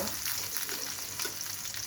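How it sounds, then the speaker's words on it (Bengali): Rohu fish frying in hot oil that spatters, a steady close sizzle with crackling pops running without a break. "এখন মাছটা একটু ভাজা হয়ে গেছে"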